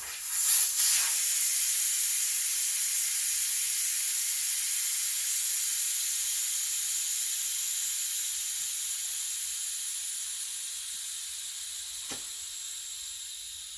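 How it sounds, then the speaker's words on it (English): Air rushes out of a bike inner tube through an open Schrader valve in one continuous loud hiss, starting abruptly and slowly fading over about fourteen seconds, with no voices. "So we got to pull the Schrader valve back out. We could let it leak down"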